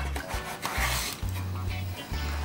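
Knife slicing through a pressed jerk chicken sandwich; a close, steady scraping and crunching that runs for about two seconds with no talk.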